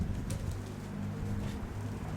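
Pigeons that Mykola has let loose coo in low, throaty murmurs, close and steady over a short stretch, with a faint flutter of activity in the background.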